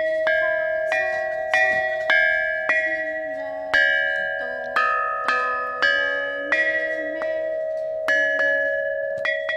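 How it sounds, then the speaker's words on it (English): Ancient bronze chime bells of Marquis Yi of Zeng are struck in a slow melodic sequence, each clear ringing tone decaying before the next, about a dozen strikes played alone and close. "Marquis Yi of Zheng's chime is the biggest and most well-preserved bronze instrument in the world"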